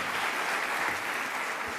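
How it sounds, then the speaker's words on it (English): Audience applauding for a Defense Secretary's farewell address, a steady broadband wash of clapping held at an even level throughout, with no voices over it. "Please don't clap for me."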